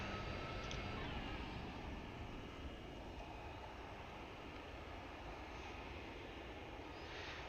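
F-15 jets roar nearby as a broad, steady engine rumble heard from inside a Citation S550 cabin, continuous and moderately loud with no talking.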